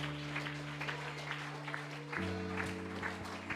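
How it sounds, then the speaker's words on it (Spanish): A church congregation applauds steadily in a dense, moderate wash of clapping while sustained keyboard organ tones hold underneath and shift to a new chord partway through. "no sé si quiera darle un aplauso al Señor"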